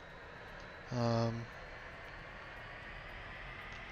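L-39 Albatros jet taxiing in the DCS flight simulator game, a steady broadband engine drone running throughout, with a brief louder tonal burst near the start as someone speaks a word.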